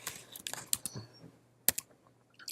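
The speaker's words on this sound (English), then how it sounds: "So I'll start typing in the name, Nordstrom, or JWN, which is their ticker symbol" Keys clatter on a computer keyboard as a company name or ticker symbol is typed into a Bloomberg terminal, with irregular clusters of close, crisp clicks and brief pauses between bursts.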